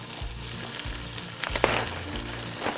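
Onions and previously frozen bell peppers hit a hot pan for chicken cacciatore, producing a steady close sizzle with a few clattering stirs.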